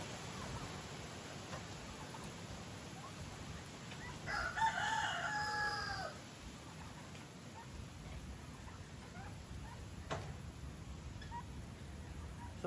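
A rooster crows once from a wary, skittish chicken, a rising harmonic call lasting about two seconds mid-clip, moderately near, over steady outdoor background noise with no talk.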